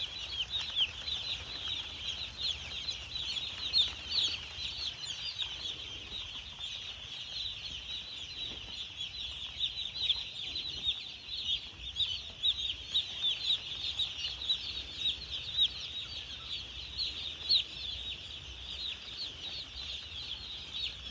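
Chickens on a small village poultry farm in Bangladesh cluck and chirp in a steady chorus, fairly faint with occasional wing flaps and no speech.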